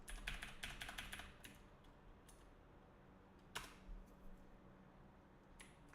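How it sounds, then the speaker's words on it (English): Computer keyboard keys clacking in quick bursts, with a dense flurry of presses at the start, then scattered single taps with pauses between them, close and fairly quiet over a low background hum. "I'm pretty sure I can press keys now."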